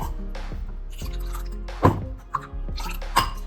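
Soaked fenugreek seeds and their water drop into a mixer jar with a few soft wet thunks and drips, close by and moderately loud.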